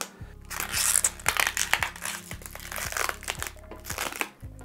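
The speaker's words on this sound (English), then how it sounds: "we're gonna remove, I guess, this first piece of styrofoam, which includes and protects the upper layer or upper lid of the printer itself" Styrofoam packing being pulled off the top of a boxed Creality K1 Max 3D printer, giving close, loud crunching and squeaking scrapes in repeated bursts with a steady low hum beneath.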